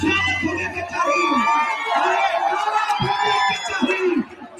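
A large crowd at a Prashant Kishor political rally in Dehri, Rohtas district, Bihar, cheering and shouting loudly, with whoops and continuous crowd noise throughout.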